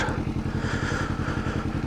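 A Kawasaki Ninja 300 motorcycle being ridden, its engine a steady low droning hum with a faint rhythmic pulse, continuous and fairly close throughout.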